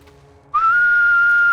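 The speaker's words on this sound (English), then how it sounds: "I'll see if I can whistle on stream." One person whistles a single sustained, steady note that starts abruptly and holds loud and clear to the end, with no talking.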